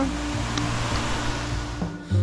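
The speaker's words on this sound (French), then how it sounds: "Donc voilà les cascades." Oregon waterfalls give a steady, broad rushing roar that fills the whole stretch with an unbroken wash of falling water, close and fairly loud, with no talk over it.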